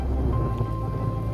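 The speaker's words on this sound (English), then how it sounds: "Actually, it's raining now" Rain falling outdoors on a Colorado street near a gold-bearing creek: a steady, broadband hiss with a low rumble underneath, continuous and fairly loud, with no talk.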